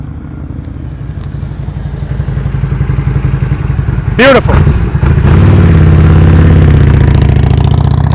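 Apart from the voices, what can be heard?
motorcycle engine at slow speed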